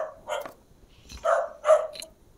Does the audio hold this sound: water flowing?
no